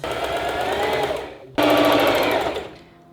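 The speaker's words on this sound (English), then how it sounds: "Let's sew, my dudes." A sewing machine stitches a skirt that is being resized, running in a steady mechanical whir, stopping briefly about halfway, then starting again louder before fading toward the end.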